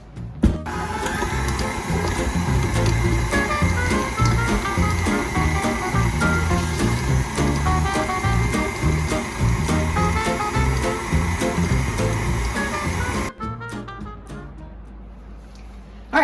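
An electric mixer beats cream cheese with powdered sugar in a loud, close, steady motor whir with a churning texture that runs about thirteen seconds, then switches off, with no speech.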